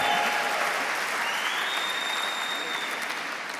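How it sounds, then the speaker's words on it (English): Audience applause at an awards ceremony, a dense steady wash of clapping from a large crowd that holds an even level throughout and fades only slightly toward the end. "But Bobby, don't applaud."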